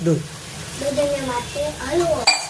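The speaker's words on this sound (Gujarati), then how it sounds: "હવે આપણે આને થોડી વાર શેકાવા દઈશું" Bottle gourd roasting in ghee in a pan gives a steady, soft sizzle that runs under a voice talking throughout.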